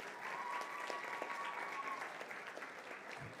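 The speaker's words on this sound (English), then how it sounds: "let's give them a round of applause." Audience applause at an eighth-grade math competition, a steady, moderately distant patter of many hands clapping throughout a few seconds, with no talk over it.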